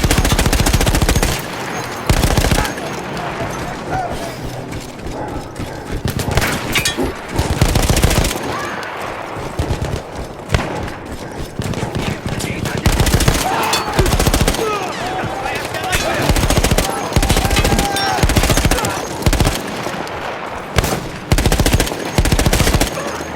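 Machine gun fire in the World War I shooter Battlefield 1, a heavy mounted gun once manned by Austro-Hungarian troops, rattling in loud repeated bursts with gunshots and booms throughout, with some speech mixed in.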